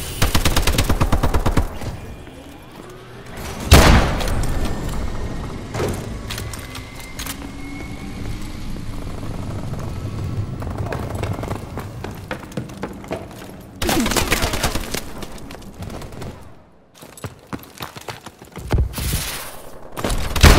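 Gunfire in the video game Call of Duty: Advanced Warfare, with rapid automatic bursts and sharp single shots, loud and close, separated by brief lulls and background battle noise.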